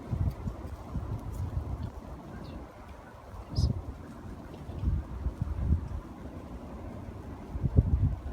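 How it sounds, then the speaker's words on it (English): Strong wind gusting outdoors at night during a very high wind warning, a continuous low rushing roar with buffeting surges and rumbling microphone noise, rising and falling in waves. "Haven't seen wind gusts like this in a super long time that I can remember."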